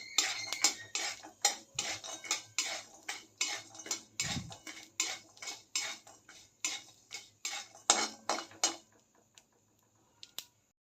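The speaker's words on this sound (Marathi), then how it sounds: "आता ड्रायफ्रूट्स भाजून घेऊयात काजू आणि बदाम चांगलं तांबूस होईपर्यंत भाजून घेऊया" Cashews and almonds dry-roasting in a kadhai until golden, stirred with a utensil that gives a steady run of sharp clinks and scrapes, roughly two per second, close and fairly loud, stopping near the end.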